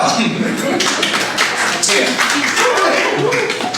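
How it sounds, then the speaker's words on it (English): A comedy club audience at a stand-up show breaks into a dense wash of clapping and some cheering, sustained and fairly loud throughout, with a voice briefly audible over it. "That did not deserve applause"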